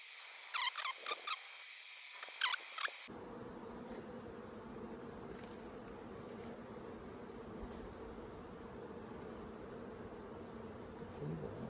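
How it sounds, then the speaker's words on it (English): A wasp buzzing close by outdoors in a backyard beekeeping setting, a steady buzzing drone that runs continuously through most of the stretch after a few brief sharp bursts at the start. "I have a wasp on my leg."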